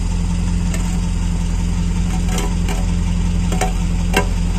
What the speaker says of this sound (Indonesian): Dan suaranya krowong krowong krowong karena banyak airnya di knalpot.